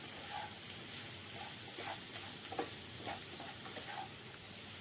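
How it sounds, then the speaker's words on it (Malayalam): Chopped onions and curry leaves sautéing in a pan, a steady soft sizzle with occasional stirring scrapes, close and even, no talking. "എന്നിട്ട് സവാളയും ഇട്ട് നല്ലോണം വഴറ്റുക."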